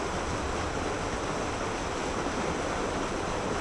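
Swift creek current flowing steadily, a continuous broadband rush of water that stays even and close throughout, with no voices.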